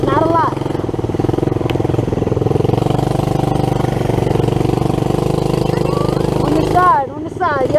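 A dirt bike idles and putters steadily close by during a trail ride beside a big puddle, a low, continuous engine note with light throttle. Someone talks over it throughout.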